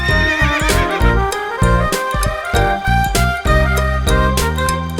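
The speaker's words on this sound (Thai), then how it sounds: "ม้าขาวกับม้าแดง" A loud horse neigh rings out amid a dense, busy backdrop with rhythmic clopping beats and layered tonal sounds.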